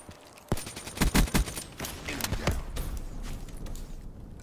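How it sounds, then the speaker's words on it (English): Shotgun fire in Black Ops 3 multiplayer gameplay: several sharp blasts in quick succession, some grouped closely, followed by scattered fainter shots and game noise at moderate level. "Don't use this nice shotgun."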